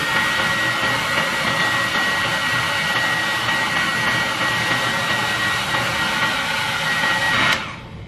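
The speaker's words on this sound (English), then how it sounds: "I have my handy dandy hair dryer again." A handheld hair dryer blows steadily and loudly at close range with a broad rushing whoosh, cutting off abruptly near the end, with no one talking.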